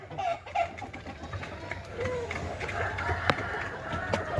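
Backyard chickens in a coop being fed crack corn and feed mix, with clucking and scattered bird calls close by, a steady rustle underneath and someone talking at times.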